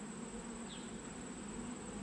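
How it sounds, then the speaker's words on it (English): Wasps buzz faintly near a beehive in the corner of an apiary, a thin, steady insect hum with one brief closer pass, and no voices. "Oh shit, I got wasps attacking me from up in the corner."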